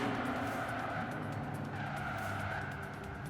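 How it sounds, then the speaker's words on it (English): In the video game Forza Horizon 4, a car drives through a tunnel, its engine a steady, reverberant roar with echo, loud and continuous throughout. "So usually when you drive a car in a tunnel, the sound from the car may get slightly louder with more echo,"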